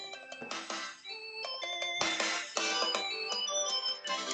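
Music plays from a mobile phone held close to a Fantech gaming headset microphone, tonal melodic notes and chimes coming through clearly and steadily, with no voice over it.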